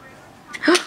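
A baby boy lets out a single short sneeze near the end, close and fairly soft, following a quiet stretch of room ambience.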